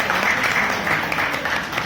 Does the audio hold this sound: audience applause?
yes